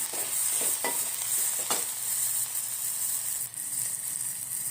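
Turmeric and red chilli powder sizzle in hot oil in a pan as a tadka for dal, with a steady close hiss and a few stirring scrapes, no talk.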